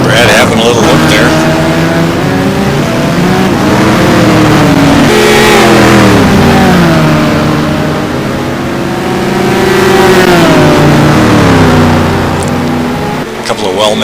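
Race cars tear around the Interlagos circuit in a GT1 racing video game, their engines revving loudly and continuously, with pitch rising and falling as the cars accelerate, shift and pass.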